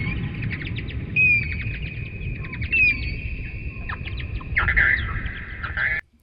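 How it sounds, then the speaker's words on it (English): Echoing bird squawks and chirps ring out over a low rumbling drone, with repeated calls and a longer flurry near the end before cutting off. "is actually a sound effect of birds in a cave."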